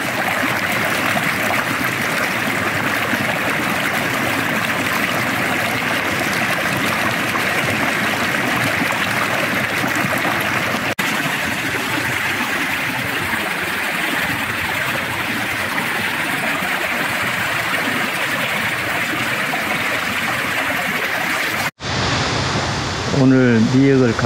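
Water in a stream flows steadily and loudly in a rural bathing spot after some rain, a constant broadband rush that continues nearly throughout before cutting off abruptly near the end.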